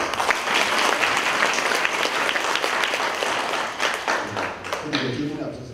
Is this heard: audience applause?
yes